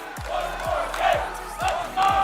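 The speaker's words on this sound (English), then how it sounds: "Crowd shouting one more game. The Boise fans getting loud out there in the crowd." At an esports world championship arena, a crowd shouts and cheers in a rhythmic chant, repeated loud bursts of many voices with thumping beats at regular intervals.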